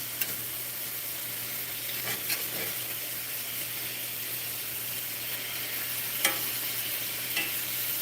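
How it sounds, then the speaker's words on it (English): Shrimp sizzling in a hot pan on a big burner, a steady close frying hiss with a few soft scrapes and clicks from stirring, no talking. "But we'll get our shrimp cooked"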